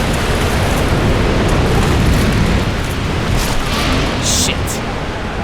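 A large explosion in the video game Dark Souls, a dense, loud roaring blast that fills the whole clip as a sustained rumbling wash, with a couple of brief higher crackles near the end.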